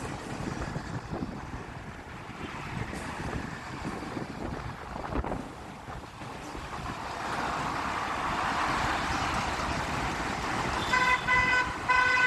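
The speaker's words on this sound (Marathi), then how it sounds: "पुण्याकडे जाणारी वाहतूक अशा प्रकारे मंदावलेली आहे" Steady traffic rumble with wind noise on the Chakan–Pune highway in a jam about 2 km long, with large and small vehicles stuck, building louder toward the end, where short, repeated car horn toots sound out.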